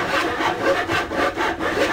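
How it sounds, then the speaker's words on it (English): A hare saws through wooden boards in The Little Raven game, a steady back-and-forth rasp of roughly six strokes at close range with no talking. "hare knows about these things and is cutting up the boards for it"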